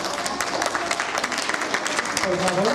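Loud applause for participating students at a 2017 readers' gathering, with dense clapping and a voice speaking over it near the end.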